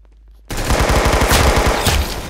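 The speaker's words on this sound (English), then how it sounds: "Look at a Tommy gun." Rapid bursts of Tommy gun fire from a video game, a loud, dense stream of closely spaced shots that starts abruptly after a brief quiet moment and keeps rattling steadily to the end.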